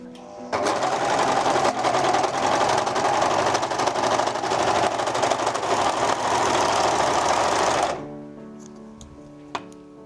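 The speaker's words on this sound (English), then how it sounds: "now I'm going to overlock this" An overlocker sewing machine stitches fabric for homemade underwear in one continuous, fast, loud mechanical run of about seven seconds, then stops, leaving a few faint clicks.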